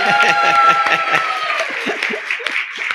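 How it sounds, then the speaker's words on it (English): An audience applauds to welcome Swami Prakashananda at a spiritual gathering, steady dense clapping over about three seconds, with a sustained tone and some voices mixed in beneath. "Give a big round of applause to invite Swami Ji"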